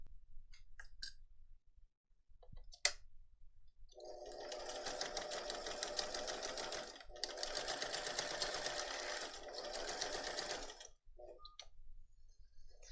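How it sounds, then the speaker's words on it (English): A sewing machine stitches a leather strap onto the side gusset of a messenger bag, running in two long continuous bursts with a short pause between them, preceded by a few light clicks and handling sounds. "And now I'm just simply going to sew that in place."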